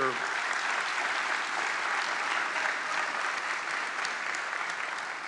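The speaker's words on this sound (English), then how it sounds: "Students, if you would, please give them a round of applause" High school graduation audience applauds the teachers and faculty, a steady, even wash of many hands clapping from a large crowd throughout.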